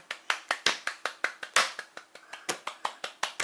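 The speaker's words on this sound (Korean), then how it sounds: "박수" Claps ring out in a quick, even rhythm, about five per second, sounding close and crisp, as a few people applaud a young child during a Korean four-character idiom quiz game at home.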